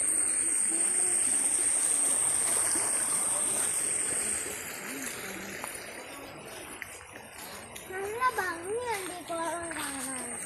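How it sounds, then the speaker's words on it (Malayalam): A village stream flows with a steady broadband rush of water, fairly close, while children's voices and chatter rise over it toward the end and a thin high whine fades out partway through. "അതെ നല്ല അരുവിയല്ലേ"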